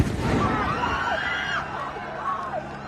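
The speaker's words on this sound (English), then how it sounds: "Shooting a live firework into the encampment." A live firework bursting at a protest encampment during a police raid on Columbia University, a loud boom that rolls off into a crackling tail, with a crowd murmuring around it.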